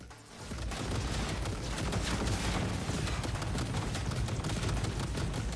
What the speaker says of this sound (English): Is it shooting at its friend, or is it shooting at me?